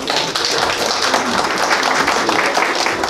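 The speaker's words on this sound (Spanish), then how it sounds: "fuerte los aplausos para quien está haciendo uso de la palabra" Steady, dense applause from a crowd at a 50th birthday celebration, many hands clapping continuously at moderate loudness throughout.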